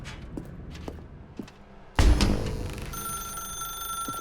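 A telephone in the video game The Stanley Parable starts ringing suddenly after a stretch of quiet room noise and a few soft thuds, its bright electronic tone sustained and fairly loud to the end.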